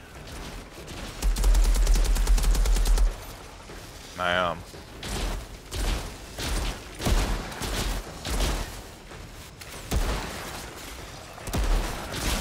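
Rapid bursts of video game gunfire from Outriders, including toxic shots, crackle loudly in the first few seconds, then return as scattered shots and impacts beneath ongoing talk.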